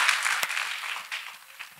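A church congregation applauds and claps hands for Jesus during a testimony service, a steady wash of many hands clapping that thins out and fades over about two seconds.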